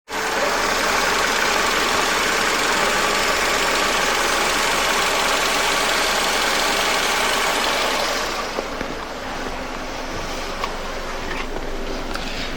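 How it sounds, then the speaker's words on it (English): A 2011 Vauxhall (Opel) Corsa 1.2 petrol engine idles loudly and steadily close by after a water pump replacement, a constant low rumble that drops slightly in level toward the end. "Start the engine up and just let it idle"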